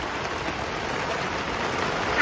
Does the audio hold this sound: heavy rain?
yes